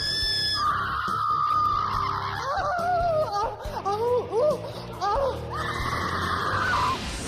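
Women audition for a horror hostess role aboard the haunted Queen Mary, letting out loud, piercing, warbling screams and shrieks one after another, close and intense, with brief gaps and some laughter between them.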